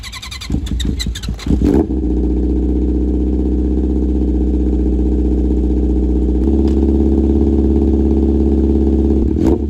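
A motorcycle engine with a dirty carburetor fires up after a few rough, sputtering attempts, then settles into a loud, steady close-range idle that swells slightly partway through.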